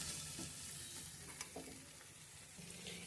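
Spices being stirred into a methi chaman curry with paneer in a pan, a steady scraping and soft sizzle with a few louder spoon knocks, close and continuous, no voices.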